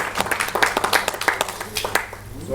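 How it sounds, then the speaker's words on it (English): An audience applauds at the close of a neurologist's talk on stroke and dementia, with scattered, fairly sparse claps in an irregular patter at moderate distance, fading slightly toward the end. "he deserves all applause once again"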